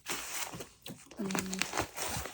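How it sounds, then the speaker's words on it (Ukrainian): A plastic vacuum storage bag that has leaked air is handled inside a suitcase, giving close, soft crinkling and rustling bursts heard under someone talking. "У мене тут вакуумний пакет, який походу з диркою, бо він за ніч набрав повітря і став уже не вакуумний."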